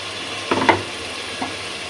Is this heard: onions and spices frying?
yes